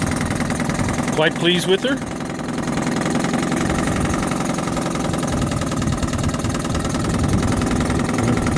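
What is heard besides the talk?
1967 Johnson 3hp Folder outboard motor idling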